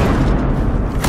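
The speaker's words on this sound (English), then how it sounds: "That's a grenade!" A grenade blast in Battlefield Hardline, a loud, close, sustained low boom that fills the whole short moment.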